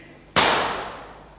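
A single sharp stage gunshot bang cracks out of near silence in an opera theatre, followed by a short reverberant decay.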